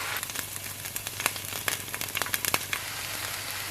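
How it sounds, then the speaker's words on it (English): Frozen ginger garlic paste blocks browning in hot oil in a pan for chicken biryani, giving a steady close sizzle with scattered crackles and pops that thin out toward the end. "I'm going to let this brown in oil first before adding the onions and the salt"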